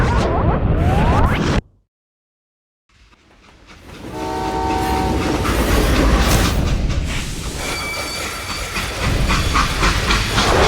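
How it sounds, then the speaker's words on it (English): A steam train in the western video game Call of Juarez Gunslinger hisses and rumbles loudly, breaks off into a second of silence, then returns with a blaring multi-tone horn over steady chugging rail noise. "How'd they stop this train in the first place?"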